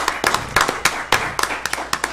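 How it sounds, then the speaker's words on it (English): Small group clapping at a city commission meeting in Pahokee, Florida: a few separate, fairly loud hand claps in an uneven rhythm, each one sharp and distinct, close to the microphone, with no steady wash of applause building up. "let's give this firm and our staff a little applause for that."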